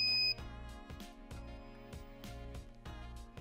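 An Arduino buzzer module beeps under its cover, giving a muffled, evenly repeated series of short tones, about six beeps in a steady rhythm, fairly quiet and alone.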